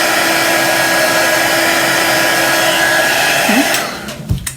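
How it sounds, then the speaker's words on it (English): A heat tool blows hot air in a loud, steady whir drying chalk paste on a craft project, running continuously for about four seconds before cutting off, followed by a few faint handling knocks. "So I'm going to really carefully dry this with a heat tool."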